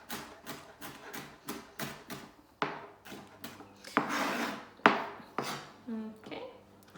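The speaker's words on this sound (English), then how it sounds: "this bit you can just kind of chop it up a wee bit more to get it nice and fine" A kitchen knife chops food finely on a wooden board for beef lasagne, a rapid series of sharp close taps settling into slower heavier strokes and scraping, with a little talk in the background.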